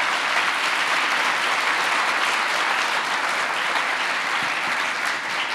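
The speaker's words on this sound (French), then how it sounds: "Et je crois que ça vaut peut-être un petit applaudissement." An audience at a public science conference on cancer and its treatments applauds the volunteer researchers, a sustained, even clapping that stays loud throughout with no voices on top.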